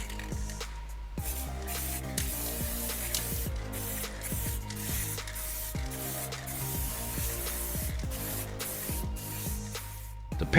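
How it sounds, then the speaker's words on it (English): A refilled spray paint can sprays paint in a long, steady hiss close by, with short gaps where the nozzle is released and pressed again, while a faint tonal hum runs underneath and no one speaks. "The paint sprays out evenly and smoothly, doesn't it?"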